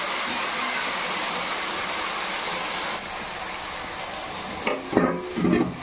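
Seasoned hog plums hit hot oil for chutney, producing a loud, steady roaring sizzle that eases slightly midway, followed by a few clattering stirs near the end.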